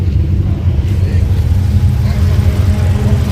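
A race car engine idles and rumbles at Zwartkops Raceway, a loud, steady low throb close by, with a person talking over it.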